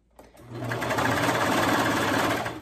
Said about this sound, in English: you're just gonna serge right off the edge